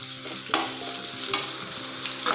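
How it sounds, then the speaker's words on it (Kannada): Onion roasting in a pan for a village-style goddu khara, a continuous soft sizzle broken by a few sharp scrapes of stirring, close and fairly quiet with no talk. "ಈರುಳ್ಳಿ ಹಾಕ್ಕೊತೀನಿ ಈರುಳ್ಳಿ ಸ್ವಲ್ಪ ಚೆನ್ನಾಗಿ ರೋಸ್ಟ್ ಮಾಡಬೇಕಪ್ಪ ಇದನ್ನು"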